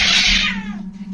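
A cat lets out a single loud, drawn-out meow close by, fading into a steady low electrical hum, recorded indoors on a CCTV camera.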